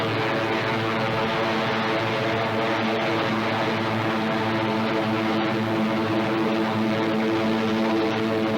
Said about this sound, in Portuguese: 5 esquadrilhas de Hurricanes e Spitfires se apresentaram e tomaram os céus